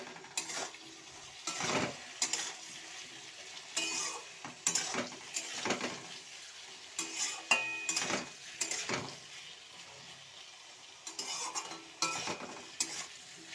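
Potato and eggplant frying in a pan, with steady sizzling broken by repeated scraping and stirring of a utensil against the metal, fairly close and with no talk.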